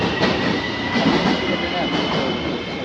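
A metro train rumbles through a station in Kuala Lumpur, giving a loud, continuous roar with wheel clatter and a faint high whine throughout.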